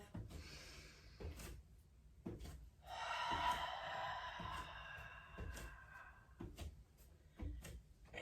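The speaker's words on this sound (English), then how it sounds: "Still breathing in through the nose, out through the mouth." Slow yoga breathing, drawn in through the nose and let out through the mouth, comes as soft, airy hissing breaths that rise and fall close by in a quiet room.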